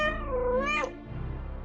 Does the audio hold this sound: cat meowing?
yes